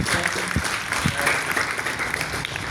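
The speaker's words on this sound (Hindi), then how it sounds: "इसके लिए तालियां बजाओ" Students clapping in a school classroom, a dense burst of applause from many hands that carries on at even loudness throughout, with some voices mixed in.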